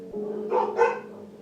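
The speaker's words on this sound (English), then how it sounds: "uh-oh, my dogs" Dogs barking indoors during a home makeup routine, two quick yips or barks close together, moderately loud over a steady low hum, with no talk.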